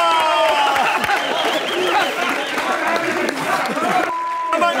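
A Mexican late-night TV audience applauds and cheers for the guest, a dense wash of clapping and crowd noise mixed with a host's voice and music.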